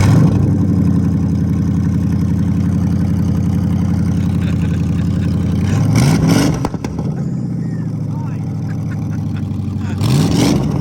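A Ford Crown Victoria's V8 engine, just fitted with a swapped transmission, runs loud and close in a steady rumbling idle, interrupted by two sharp revving bursts around the middle and again near the end.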